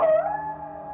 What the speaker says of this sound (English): he hears howls